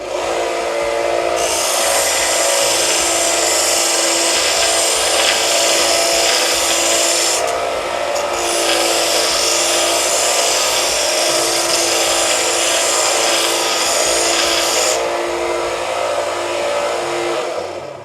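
A Harbor Freight 1x30 belt sander grinds burrs off a copper coffee scoop, its steady motor whine carrying a bright abrasive rasp that comes and goes as the metal is pressed to the belt, loud and close throughout.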